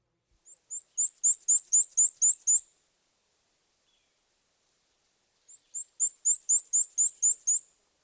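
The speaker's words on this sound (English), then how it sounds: "many birders think the black and white warbler sounds like a squeaky wheelbarrow." A black-and-white warbler sings two separate phrases of high, thin, squeaky notes repeated in a fast, even seesaw rhythm. Each phrase lasts about two seconds, with a few seconds of silence between them, clear and fairly close.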